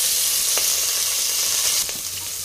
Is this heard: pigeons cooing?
no